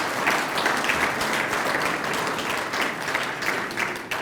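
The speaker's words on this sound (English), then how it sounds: "You can give him a round of applause." Lecture audience giving a round of applause in a hall, dense steady clapping from many hands, fairly loud and continuous throughout with no talk over it.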